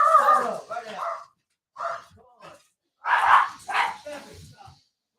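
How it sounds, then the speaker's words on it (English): A dog barks loudly and excitedly indoors, several sharp bursts in two clusters separated by a short pause, with no talk over them. "We have a freaking dog going crazy."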